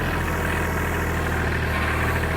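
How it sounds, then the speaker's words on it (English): A farm tractor engine revving in four-wheel drive while loading mulch, a loud, steady low rumble with constant drone, close and continuous without pause. "put it in four-wheel drive and rev the tractor up a little bit"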